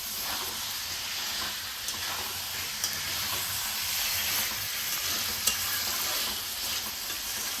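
Chicken sautéing on a medium flame for a potato chicken curry, giving a steady, even sizzle and hiss that runs unbroken from start to finish with no talking.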